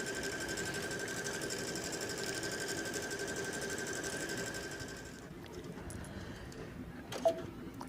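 A sewing machine running steadily at full speed on a couching and tapered-stitch job, its fast whirring hum carrying for about five seconds before the stitching automatically stops, followed by faint handling noises and a small click.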